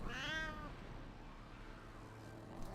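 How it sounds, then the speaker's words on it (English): A cat gives a single clear meow near the start, close and fairly loud, then fades into quiet room hum with no talking. "got a cat here in my monitor"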